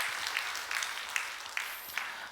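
Light scattered applause from a small church congregation at a Friday evening service in Gunsan, South Korea, fairly faint, with a few sharper claps standing out near the end.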